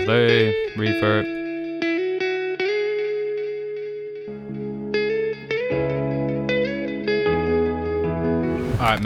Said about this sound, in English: Delay, reverb.